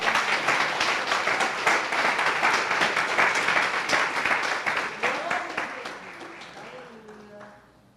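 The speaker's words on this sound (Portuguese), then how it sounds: "Você pode aplaudir ao Senhor com o seu melhor?" Church congregation applauding during a Portuguese-language worship service, a dense, loud wash of clapping hands that slowly thins and fades toward the end, with a few voices rising faintly beneath it.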